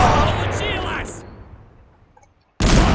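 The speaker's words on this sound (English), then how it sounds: "They got some of the Soviets with those grenades." Heavy blasts from grenade explosions in the Men of War: Assault Squad 2 video game, a loud broadband burst that decays over about two seconds into quiet before another loud explosive burst hits abruptly.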